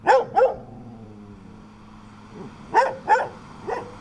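A dog barks outdoors among the hills of Torreselle near Isola Vicentina, with two quick barks at the start, a pause, then two more barks and a fainter third, fairly close and clear.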